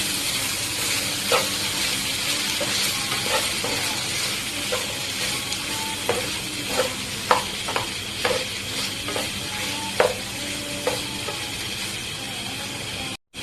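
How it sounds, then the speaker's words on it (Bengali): Okra with salt and turmeric stirred in a sizzling pan, a continuous close frying hiss broken by repeated spatula scrapes and taps at an irregular, fairly quick rhythm. "এখন গাইস ভালোভাবে নেড়ে চেড়ে দিয়ে দেবো।"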